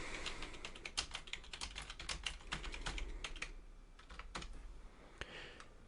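A note being typed on a computer keyboard, quick irregular key clicks close to the microphone, quiet, with a brief lull before a few final taps and no speech.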